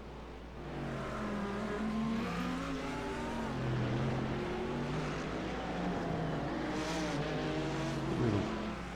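A Porsche race car engine in an IMSA racing video game, a steady, droning, mid-distance whine whose pitch sweeps up and down through gear changes, with another car's engine layered alongside.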